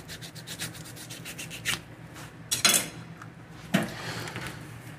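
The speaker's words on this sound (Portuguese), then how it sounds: "Eu vou abrir aqui agora meu leite condensado." Someone opens a can of condensed milk with a few scraping, rubbing metallic strokes, followed by sharper clicks and pops near the end, all close and fairly quiet with no speech.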